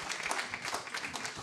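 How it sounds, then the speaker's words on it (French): Conference audience applauding after a panel debate on technology in retirement homes, a brief burst of moderately loud scattered clapping with individual claps audible. "alors on va aller sur la félicitation et les applaudissements"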